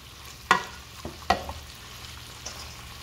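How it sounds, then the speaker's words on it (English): Dumplings with bologna and sausages frying in hot oil, heard as a soft continuous sizzle with a few sharp clinks and bumps from placing them into the pan, no talking. "And my oil is over here. It's hot. So I'm putting in my dumpling."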